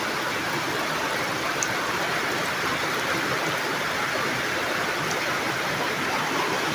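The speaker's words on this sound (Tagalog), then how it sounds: "Lakas ng ulan sa bukid." Heavy typhoon rain pours steadily onto an open farm field, a dense, unbroken hiss and roar of downpour with no voices.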